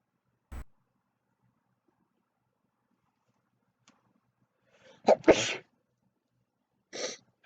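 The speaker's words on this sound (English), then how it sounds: "I hate sneezing." A person sneezes sharply and close, a quick burst followed by a few softer breathy sounds, with a second sneeze-like burst near the end in an otherwise quiet room.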